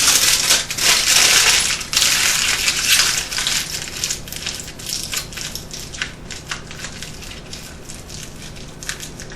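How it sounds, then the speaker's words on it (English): Tin foil is wrapped and crumpled around the end of a paintbrush, giving loud, close crinkling and crackling that is most intense at first, then softens into lighter, intermittent rustles. "cover up the brush side, the brush end, with some tin foil"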